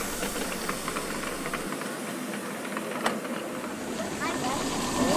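A 7.25-inch gauge Sweet William model steam locomotive on a miniature railway: a steady hiss of steam with soft rhythmic chuffing and a sharp release near the middle, heard at moderate distance amid background chatter.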